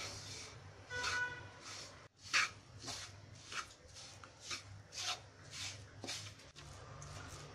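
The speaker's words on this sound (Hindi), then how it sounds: "मीडियम आंच पर लगातार चलाते हुए इसे हम भुनेंगे।" Semolina and gram flour roasting in hot ghee over medium heat are stirred steadily with a spoon. Soft scraping strokes repeat about once a second, close and fairly quiet over a low background hum, and no one speaks.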